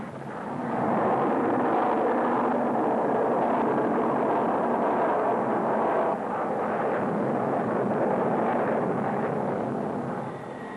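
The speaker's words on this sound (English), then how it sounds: "This KC-130 Hercules is an airborne tanker setting out to rendezvous with a formation of thirsty jets." A KC-130 Hercules airborne tanker flies past with a loud, continuous, broad roar of its turboprop engines, swelling in and holding steady before easing slightly toward the end.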